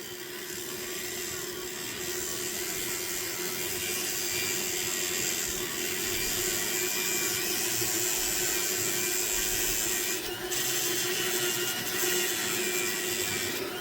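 Soft felt burr on a rotary tool polishes a Deer Creek fire agate stone, a steady high-pitched whirring grind with a faint rubbing texture that holds continuously at moderate loudness.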